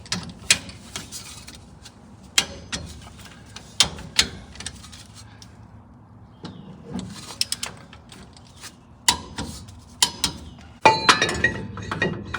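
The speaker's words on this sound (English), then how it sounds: "let's go ahead and put the lock washers and nuts on, and we're gonna tighten these down to 87 foot-pounds" Lock washers and nuts being fitted and tightened on a Nissan Titan axle during a bearing and seal replacement: repeated sharp metallic clinks and ratchet clicks at close range, spaced through the clip, with a busier burst of clicking near the end.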